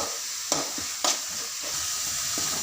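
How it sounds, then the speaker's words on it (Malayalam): Crushed garlic, shallots, tomato, coriander leaves and asafoetida sizzle steadily in a pan, with a couple of sharp spoon clicks against the pan as they are stirred. "തക്കാളിയും മല്ലിയിലയും വെളുത്തുള്ളിയും ചുവന്നുള്ളിയും ചതച്ചതും കട്ടിക്കായം കൂടി നല്ലപോലെ മൂക്കട്ടെ"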